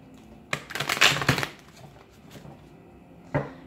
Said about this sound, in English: One more shuffle for Capricorn.